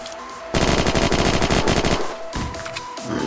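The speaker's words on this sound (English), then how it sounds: "Someone's sniping, I can hear him." Rapid gunfire inside the Unturned video game, a dense burst of shots lasting about a second and a half, followed by a quieter stretch with sparser reports and background game sounds; no talking.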